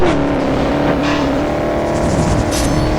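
An Audi engine roars loud and steady as the car drifts, a continuous high-revving drone with faint tire hiss and no talk.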